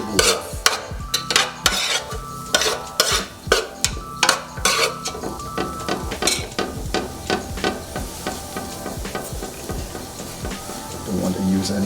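Cream of wheat is stirred in a pan with a spoon, giving a quick run of sharp scraping clacks against the metal that settle into a steadier rhythm, with quiet talk in the background.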